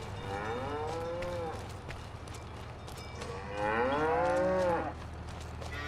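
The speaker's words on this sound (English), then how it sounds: "Gotta do something with those cows though too" Cattle on a farm low twice in long, drawn-out moos, the second louder, with a steady engine hum underneath.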